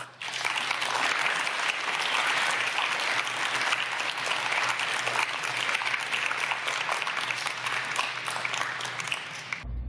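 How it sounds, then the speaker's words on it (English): An audience at a high school graduation ceremony bursts into sustained applause, dense and steady clapping for about ten seconds from a large crowd before it cuts off. "Let's give them a round of applause."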